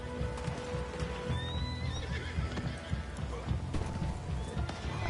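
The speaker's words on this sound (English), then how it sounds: "My horse is running away from me." Horse neighing and whinnying with clip-clop hooves as it runs in the Red Dead Online video game, dense continuous game sound with faint voices under it.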